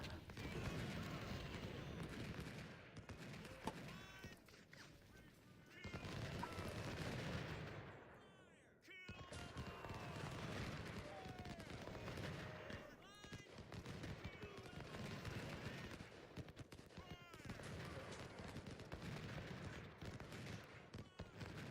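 Dense, continuous battle noise from Ultimate General: Civil War, with rolling cannon and rifle volleys layered into a loud, sustained roar that briefly drops out midway before resuming.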